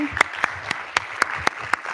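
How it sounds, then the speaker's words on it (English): A small audience at a live session claps for two presenters, with sparse, separated claps arriving in a fairly regular rhythm over about two seconds. "Big round of applause for Julian and Martina"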